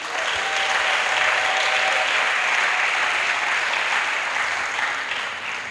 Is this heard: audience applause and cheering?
yes